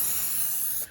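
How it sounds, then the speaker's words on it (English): A single steady hiss of an aerosol test spray of car window trim restorer, close and loud, holding for nearly a second before cutting off abruptly. "As always, you do your test spray."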